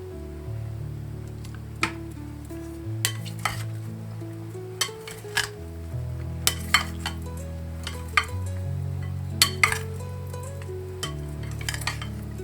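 A Thai mango salad is tossed and mixed in a bowl, with soft scraping and stirring under low hum and several sharp clinks of utensil against the dish at irregular intervals.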